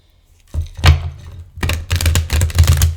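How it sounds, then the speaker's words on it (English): A thick, chunky, expensive tarot deck is split in half and shuffled by hand. Near, crisp riffling and clattering card bursts follow a quiet start, in about three rapid passages. "There is your shuffle on an incredibly expensive deck."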